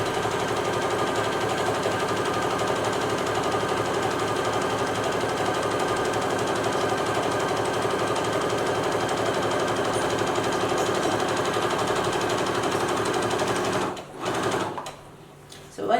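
A sewing machine stitches straight lines in a fast, even mechanical rattle that runs continuously and close up, then stops near the end with a few soft handling sounds.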